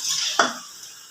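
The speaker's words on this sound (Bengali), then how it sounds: "আমি একটু ঘন ঘন উল্টে পাল্টে ভাজছি, নাহলে এক পিঠটা বেশি ভাজা হয়ে যাবে" Semolina snacks are flipped in a frying pan, a soft sizzle with one sharp utensil knock against the pan, close and brief.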